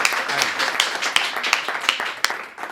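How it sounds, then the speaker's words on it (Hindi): An audience at a Hindi poetry show claps loudly to welcome a comic poet, the applause brisk and near with distinct individual claps popping out before it tapers off. "एक बार बहुत जोरदार तालियों से दमदार जी का स्वागत करिए"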